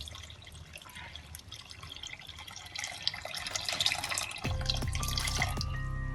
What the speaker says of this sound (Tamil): ஒரு எலுமிச்சை மழை அளவுக்கு புளி தண்ணி இதுல கரைச்சி ஊத்திக்கலாம்